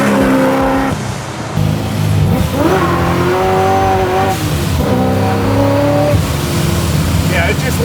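An 850 hp Pro Charged 1969 Camaro restomod revs hard and loud, its engine pitch climbing and falling in repeated pulls as the tires spin, with voices talking over the roar.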